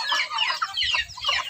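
Backyard chickens kept alongside ducks cluck in a rapid flurry close by, several birds overlapping in busy, chattering calls with no talk.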